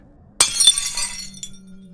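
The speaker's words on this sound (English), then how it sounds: "I grabbed my bedside lamp and smashed it over the thing." A glass bedside lamp smashes in one sharp, loud crash, followed by a brief scatter of tinkling shards that fades out within about a second, with no voices present.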